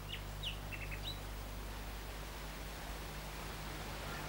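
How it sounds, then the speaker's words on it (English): Nightingale singing in a wood, a few faint high chirping notes early on, distant and brief over a steady hiss and low hum. "Do you hear the nightingale singing in the wood?"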